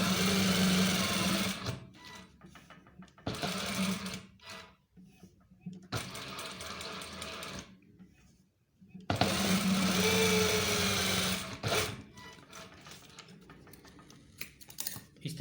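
An electric sewing machine runs in several bursts of rapid stitching as belt loops are sewn onto police uniform trousers, loud and close, with short quiet pauses between runs and a voice speaking briefly.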